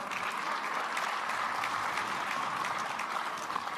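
A tennis crowd at the Carvana Mesa Cup applauds Jack Sock, steady clapping from many hands at a moderate distance, sustained with no break and no voices.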